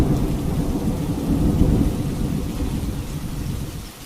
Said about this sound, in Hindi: तभी तेज बारिश शुरू हो गई।